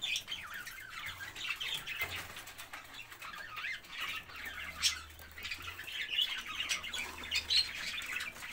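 A caged pet bird, named Jumbo, gives repeated squawks and chirps with bursts of wing flapping, fairly close and sporadic over a quiet room.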